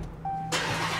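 An Opel Corsa fitted with new headers starts up, a short crank and then the engine catching into a loud, broad roar right at close range.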